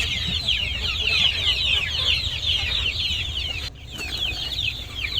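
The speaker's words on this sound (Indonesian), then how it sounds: "ini adalah ayam-ayam KUB kita" A flock of KUB chickens clucks busily at feeding time, overlapping chatter close by over a low background rumble.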